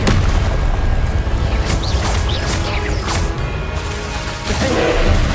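Incendio fire spell cast in the Hogwarts Legacy video game amid rapid spell combat: dense bursts of whooshing flame and booming impacts layered over a constant rumbling game soundscape, with no voices heard.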